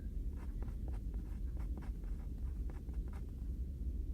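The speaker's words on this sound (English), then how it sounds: "let me just write that down" A pen scratches across paper in a quiet room. A few short strokes follow one another in an irregular rhythm, faint and close over a low background hum, with no voice.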